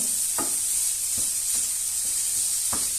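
Coquillettes pasta cooks in a pan and is stirred, a steady sizzling hiss broken by several distinct scraping strokes of the utensil at uneven intervals, close and fairly loud.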